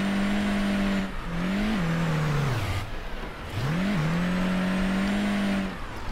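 Car engine in a co-op survival video game, a loud steady engine tone that dips and rises as the vehicle revs and strains twice, heard on its own.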